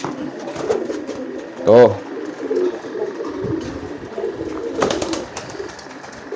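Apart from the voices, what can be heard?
pigeons cooing in courtship display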